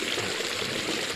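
Water pours briefly over a small soap sheet during an outdoor bivouac hygiene routine, a soft continuous splashing trickle that is close and fairly quiet, with no voices.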